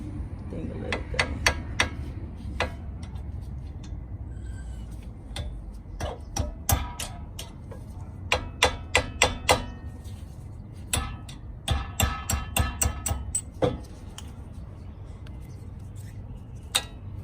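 Hammer taps knocking a brake pad retaining pin out of a Brembo front caliper on a Nissan 350Z, sharp metallic strikes in irregular bursts and quick clusters, close and fairly loud over a low background hum.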